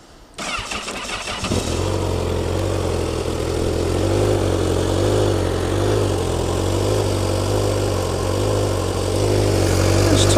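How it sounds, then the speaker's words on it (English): A 2016 Honda CBR1000RR Fireblade SP sportbike cranks briefly, fires up and settles into a steady, loud, close idle that rises slightly toward the end. "So we do the start up. Just your standard CBR Honda type startup really."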